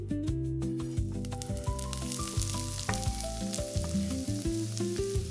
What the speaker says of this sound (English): We send the prepared onion straight into the hot skillet.